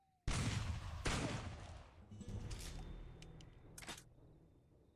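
Gunfire in a VRChat zombie survival game: two loud, sharp shots ring out at the start, then a string of fainter pops and clicks trailing off over a rumbling background.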